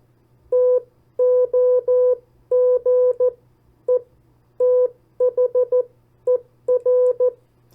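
Morse code CW tones spell out the word TOGETHER: clean, steady beeps in bursts of short dots and longer dashes separated by gaps, with a faint low hum underneath.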